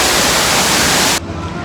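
A waterfall at Bushkill Falls, Pennsylvania, roars as a dense, even wash of falling water, then cuts off abruptly and drops to a much quieter, duller background hush.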